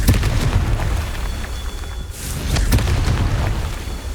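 Confringo blasting curse explosions in the game Hogwarts Legacy, a continuous loud rumbling barrage of booms and bursts with repeated sharp impacts, close and heavy, no talking.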